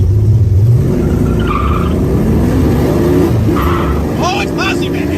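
A classic muscle car with a 351 V8 and Hurst 4-speed shifter rumbles loudly and steadily close by, with brief tire squeals near the end.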